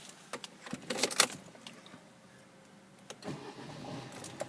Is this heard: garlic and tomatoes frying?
no